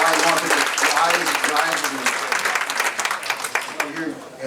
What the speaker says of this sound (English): a big round of applause for Teresa Matsui